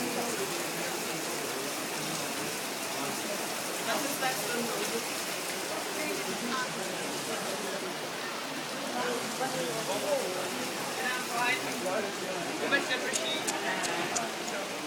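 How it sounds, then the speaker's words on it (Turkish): Heavy rain pours over Venice in a steady, dense hiss that never lets up, with indistinct voices murmuring faintly in the background. "Müthiş bir yağmur."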